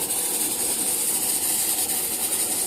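A homemade stove burning used oil as it cooks gives a constant loud roaring hiss, close and unbroken, with no talk.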